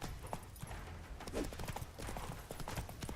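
Horse galloping in The Witcher III game, rapid repeated hoofbeats in a steady clip-clop rhythm, close and continuous over game ambience.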